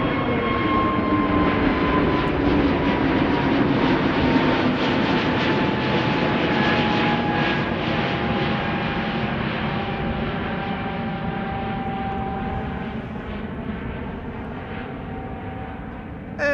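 KLM flight 1031, a narrow-body jet airliner, taking off at Amsterdam Schiphol on a sunny day: a loud sustained engine roar with high whining tones that slowly fade as the aircraft climbs away into the distance.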